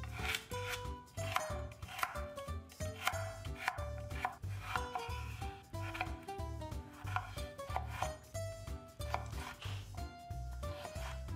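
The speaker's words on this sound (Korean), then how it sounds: "당근 하나와 양파 반 개, 그리고 토마토 하나를 다져서 넣을 건데요. 먹기 쉽게 작게 다져주세요." A knife chops carrot, onion and tomato finely on a cutting board, a quick steady run of close, crisp taps repeating throughout over faint background music.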